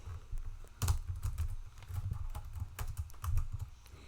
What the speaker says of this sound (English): I'm gonna type it again individually